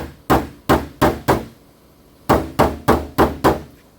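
A hammer taps down a high spot on the steel driver's side front door panel of a 2016 Honda Accord: two bursts of sharp metallic knocks, three then five, in a steady rhythm, loud and close with a short pause between.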